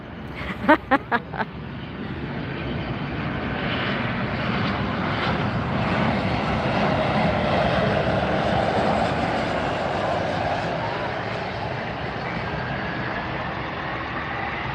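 Jet aircraft engines spooling up at Miami airport at night, a broad rising roar that builds and holds steady after a few sharp clicks at the start, fairly loud and near.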